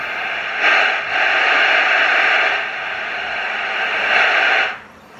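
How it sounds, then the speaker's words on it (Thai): Harsh, hissing squelch static from an Icom 2200T two-way radio bursts on and off for several seconds, loud and close, with brief dips between surges. "นี่คือเสียงสเควล"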